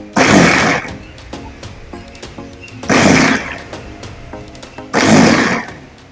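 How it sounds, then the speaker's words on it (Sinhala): An electric food chopper whirs through onions and vegetables in three short, loud bursts, each under a second long, with quieter handling noise in the gaps between pulses. "ඊට පස්සේ ඉතින් අපි මේ විදියට කරන්ට් එකට ගහලා දැන් බලමු කොහොමද මේකෙන් කරන්නේ කියලා."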